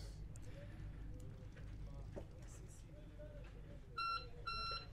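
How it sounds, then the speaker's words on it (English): Two short electronic beeps from the engine control panel of an Elan 350 sailboat sound in quick succession over a low mechanical hum and some background noise. "wait for the beep"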